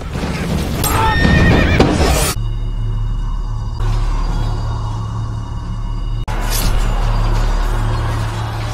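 In a film battle scene, horses whinny loudly amid clattering hooves and commotion, then a low droning rumble takes over, before a burst of noisy action returns near the end.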